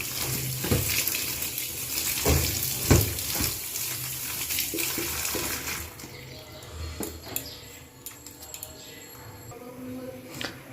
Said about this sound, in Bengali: পালং শাকটাকে ভালো করে বেছে নিয়েছি পরিষ্কার করে ধুয়ে নিচ্ছি